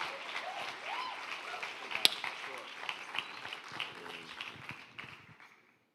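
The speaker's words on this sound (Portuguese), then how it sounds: "Vamos receber ele aplaudindo ao Senhor" A church congregation applauds to welcome Pastor Rafael, a soft, scattered clapping heard from a distance that thins and fades away toward the end.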